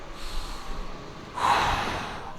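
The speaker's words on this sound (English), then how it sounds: "breathing it out on the way out." A single breathy exhale during a cable fly exercise, soft at first and then a stronger push of air midway through, close to the listener, with no talking.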